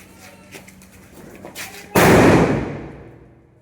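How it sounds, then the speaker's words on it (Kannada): An auto bomb firecracker bursts during Deepavali celebrations with one sudden loud explosive bang that rings out and slowly decays, after a stretch of quieter background noise with scattered distant pops. "ಇವಾಗ ಆಟೋ ಬಾಂಬು"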